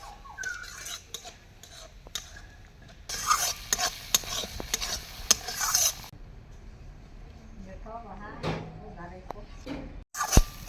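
A ground paste of spinach and coriander leaves with salt is stir-fried with spices in a pan, giving close, irregular scraping strokes over a low sizzle, with a voice heard briefly between stirs.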